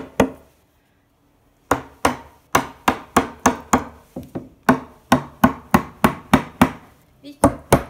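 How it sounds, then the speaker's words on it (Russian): A hammer drives wooden dowels into drilled holes during assembly of an IKEA shelving unit: a couple of knocks, a short pause, then about eighteen sharp, close wooden strikes in a quick, fairly even rhythm. "Ставим дырочки и забиваем молоточком"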